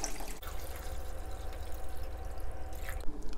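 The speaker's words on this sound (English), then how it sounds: "Just gonna put them in a big enough pot and just add enough water to cover them." Water poured from a tap into a big pot over raw pork ribs, a steady close splashing and filling that runs unbroken for a few seconds without talk.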